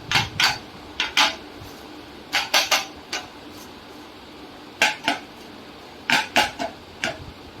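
A metal plate of ripe mango pulp is rattled and tapped against a hard surface to level the pulp for mango bars, in short clattering bursts with brief pauses, close and clear.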